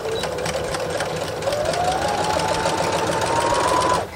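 A sewing machine runs steadily, stitching a vegetable bag with a fast whirring hum that climbs slightly in pitch as it speeds up, close by and uninterrupted until it stops near the end.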